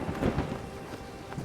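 A thunderstorm with rain, a low rumble of thunder swelling and fading over steady rainfall, close and moderately loud with no voices.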